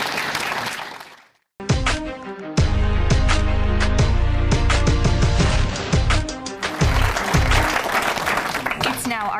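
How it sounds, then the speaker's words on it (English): A loud burst of music with drums and brass kicks in after a brief pause and plays on energetically, with crowd clapping blended underneath. "let's give a round of applause to John and Eldonna and the Spokane Valley Chamber"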